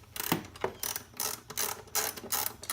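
A hand ratchet clicks in quick bursts as it snugs down the 10mm bolts on the battery hold-down bracket of a 2011 Mazda3 2.5L, the rapid pawl ticks close and clear with short pauses between strokes.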